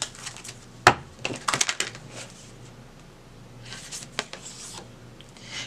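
Tarot cards being shuffled by hand, a few quick, close riffling bursts and soft card slaps scattered among quieter pauses, faint and without talk.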